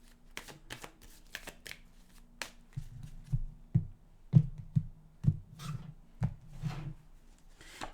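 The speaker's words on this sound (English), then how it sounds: "We'll give them a fast shuffle here." Tarot cards riffled in a fast shuffle, a run of crisp flapping bursts and taps close up, quiet and alone without talk.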